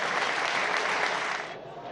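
A football stadium crowd gives a minute of applause for the 71 victims of the LaMia flight, with steady, dense clapping that thins slightly near the end, heard from a distance without voices.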